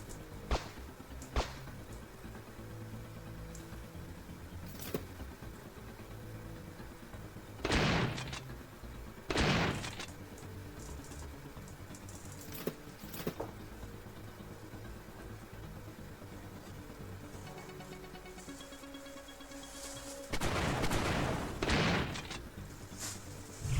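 Gunfire bursts and grenade blasts from a Defold top-down shooter video game, heard as a few sharp isolated shots early on, then loud broadband explosions near eight and ten seconds and again around twenty seconds, over a steady low game background.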